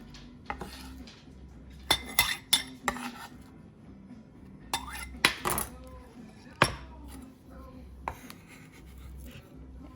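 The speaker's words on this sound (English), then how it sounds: "Then you can go ahead and stir in all of your green onions." Green onions being stirred into a stuffed mushroom filling bring scattered clinks and scrapes of a utensil against a pan or bowl, coming in short uneven bursts over a quiet background.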